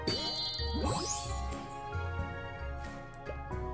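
A Huniepop game chime rings out in quick succession, bright tinkling tones over a steady low looping music bed, with no talk over it.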